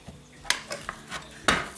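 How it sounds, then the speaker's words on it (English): A metal potato masher squeezing a potato through its holes, giving a few sharp clicks and clacks of the utensil at irregular intervals, close and fairly quiet with no talking. "It's a potato masher. Just put a potato inside and just squeeze"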